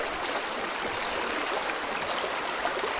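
A river flows steadily beside an evening campsite on a long horseback ride, a loud, constant rushing wash of water with no voices over it.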